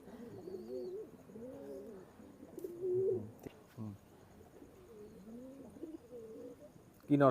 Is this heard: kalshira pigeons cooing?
yes